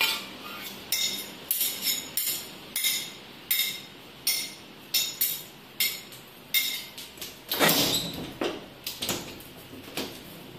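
A metal spatula scrapes and clinks against a bowl while food cooks in a home kitchen, making a steady run of sharp, fairly close knocks and scrapes with no talk over them.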